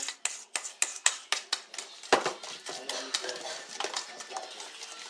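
A rubber spatula working cookie dough for homemade chocolate chocolate chip cookies, a series of sharp scraping knocks against the bowl in a quick rhythm, then softer, denser stirring, close and fairly quiet.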